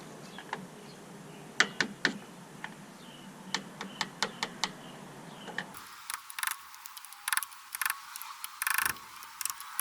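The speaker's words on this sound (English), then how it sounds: "So just getting any screwdriver and just hitting it out." A screwdriver repeatedly striking a stuck Brembo brake pad on a 2016 Mustang GT gives sharp metallic taps, scattered singly and in quick bursts, close to the mic over a low background hum that drops out midway.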